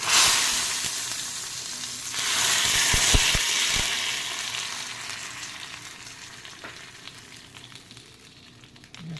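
Hot tempering with chana dal hits boiling tomato rasam, a loud crackling sizzle swelling midway with a few sharp pops, then fading into softer bubbling hiss, no voices.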